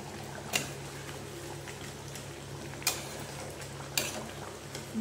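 Chicken being stirred in a pan for a Bengali orange-flavoured chicken dish: a low simmering hiss underneath, with three sharp scraping clacks of a spoon against the pan at spaced intervals.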